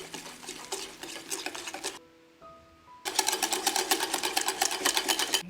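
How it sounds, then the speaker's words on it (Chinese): Butter, sifted powdered sugar and beaten egg whisked together in a bowl for a streusel filling, a busy rapid whirring with clattering strokes that stops for about a second, leaving a few faint tones, then resumes louder. "继续搅拌，直到糖粉和黄油完全混合"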